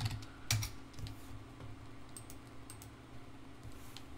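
Quick keystrokes on a computer keyboard while entering commands in a Linux terminal, a few close, crisp clicks with one louder tap near the start, then sparse light taps.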